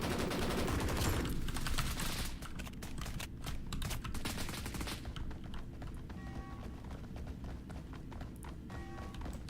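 SVU semi-automatic rifle shots in the video game BRM5, a dense burst of sharp gunfire cracks over steady background noise, then scattered keyboard-like clicks.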